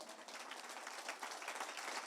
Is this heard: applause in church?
yes